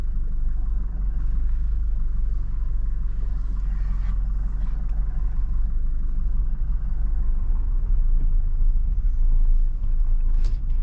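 A Toyota Innova Reborn diesel pulling away in first gear at night, a steady deep engine drone and rumble heard from inside the cabin, constant and moderately loud with no talking.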